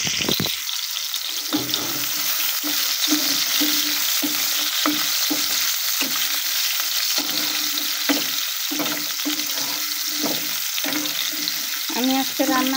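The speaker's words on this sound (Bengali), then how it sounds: "আমি আলুটাকে দেবো।" Potatoes frying in a spice paste of ground onion for a pangas fish and potato curry, giving a steady close sizzle broken by repeated stirring scrapes and clatters throughout.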